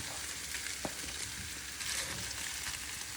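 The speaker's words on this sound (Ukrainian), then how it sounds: "Взагалі тепер перемішали і додаємо зразу всі нарізані кабачки." Chopped zucchini frying and being stirred in a pan, a steady close sizzle with soft scraping stirs running throughout, no talking.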